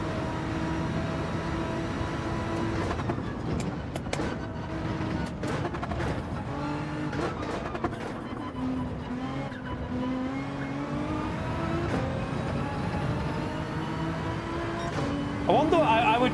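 Race car engines whine and shift through gears in Gran Turismo 7 daily races, with loud rising and falling engine tones, tyre noise and a person talking over them throughout.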